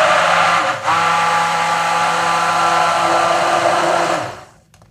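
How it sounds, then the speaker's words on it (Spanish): An electric blender whirs loudly and close as it mixes sugar, cinnamon, eggs and milk for torrija cupcakes, a steady motor drone with one brief dip before it winds down and stops. "Y ahora lo que voy a hacer va a ser pasarlo todo por la batidora."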